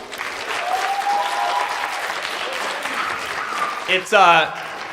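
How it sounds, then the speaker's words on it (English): A school audience applauds the arts staff, steady clapping from a crowd for about four seconds with a voice rising over it near the end. "Please give them a round of applause."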